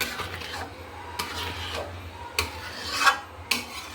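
A spoon scraping and rasping through curry in a pan, a series of close rubbing strokes with sharper scrapes and clinks at irregular intervals, heard alone without talk.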